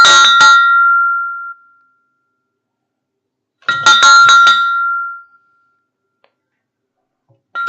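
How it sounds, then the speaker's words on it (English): A bell rung twice in tribute during a livestream, each ring a bright sustained chime that decays over about a second and a half, separated by silence, with a third stroke starting at the end. "So you need a bell ring"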